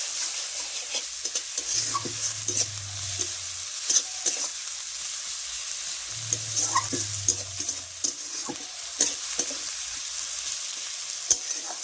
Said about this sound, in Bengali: রসুনটাকে ভালো করে নেড়ে নিতে হবে